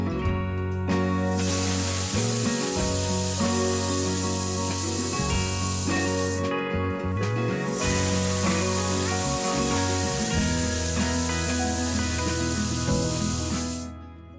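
Pressure cooker making mutton bhat, giving out a loud continuous whistling hiss of escaping steam with tonal whine underneath, a brief pause near the middle, then a long second release.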